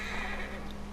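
Brief, fairly faint whinny from a horse in Red Dead Redemption 2, a short sub-second call over a steady low hum of game ambience.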